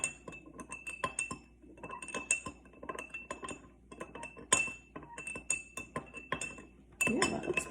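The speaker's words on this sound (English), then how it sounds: "now gently stir the mixture with a metal spoon" Metal spoon gently stirring a mixture in a glass for a witch's brew science experiment, with repeated bright clinks against the glass in an uneven rhythm, close and fairly quiet, no voices.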